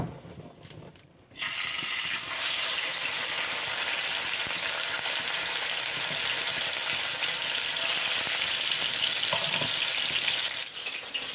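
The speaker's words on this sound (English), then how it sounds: "So while our meat is frying and potato is cooking" Meat fries in a pan with oil, a loud, steady sizzle that starts abruptly and holds for about ten seconds, with a little stirring clatter and no talk.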